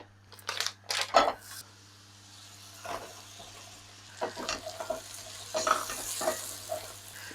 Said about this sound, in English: I put in my mushrooms